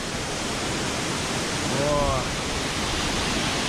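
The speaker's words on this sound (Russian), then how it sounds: "Вот такой водопад" Bambarakanda waterfall in the jungle, a dense steady roar of falling water close by, loud and continuous, with a brief bird call in the middle.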